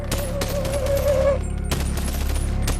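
Rapid gunfire in the VR game BoneLab comes as a fast string of loud, sharp shots, mixed with a whining tone and game effects, continuing nearly without pause.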